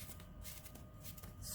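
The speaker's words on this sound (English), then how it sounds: "all you need to do is run your glue stick over the top" A glue stick is rubbed quickly back and forth over strips of paper, giving a soft, continuous scratchy rustle close by, faint and steady throughout.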